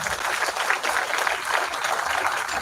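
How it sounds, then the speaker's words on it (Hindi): Applause from a packed audience at the Chhap Saraikela literature festival, a dense continuous patter of many hands clapping that holds steady throughout at moderate loudness. "अपने लिए एक बार तालियां बजा दीजिए।"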